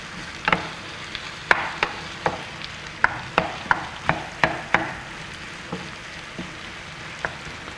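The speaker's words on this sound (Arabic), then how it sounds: "هنا اللحم ديالنا كنقلبوها كل مره باش نخليوها تطيب مزيان" Meat sizzles gently in butter in a pan while being turned over and over, with a low steady frying hiss broken by a series of sharp utensil taps and flips.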